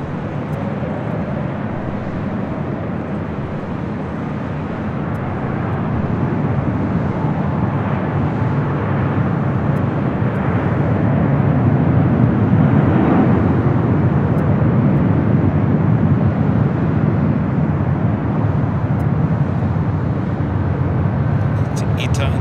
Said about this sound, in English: Emirates A380 now cleared for departure on 24 left